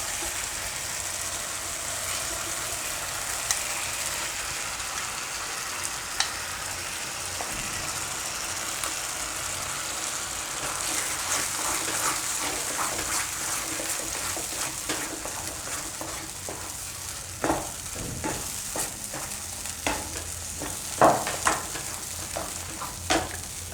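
Paneer and cashews fry in a pan with a steady close sizzle, while spoon stirs and scrapes come through as repeated sharp knocks that grow more frequent toward the end.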